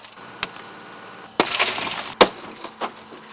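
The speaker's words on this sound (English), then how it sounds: "Breaking glass!" Car window glass is smashed during a vehicle extrication drill: a sharp crack, then a loud burst of shattering, then another crisp break, each followed by tinkling shards and scraping.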